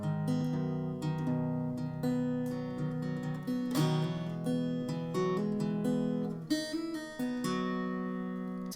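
A country guitar riff, picked notes ringing out with a small extra hammer-on, played solo at moderate level with steady plucked attacks.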